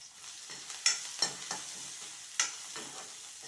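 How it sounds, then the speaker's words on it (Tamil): Crushed garlic frying in oil in a pan while a spoon stirs it, a soft steady sizzle broken by a few sharp scraping clicks, close and alone. "நான் பூண்டு தட்டி வச்சுருக்கேன், அதை போட்டுடலாம். இது நல்லா ப்ரௌன் ஆகிற வரைக்கும் பொரிச்சிடலாம்."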